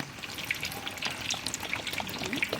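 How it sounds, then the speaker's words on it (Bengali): Mustard oil is poured into a hot wok for a prawn and bottle-gourd dish, giving a brief close sputtering crackle with bright spitting pops throughout. "কড়াই গরম হয়ে গেছে, ঢেলে দেবো সর্ষের তেল।"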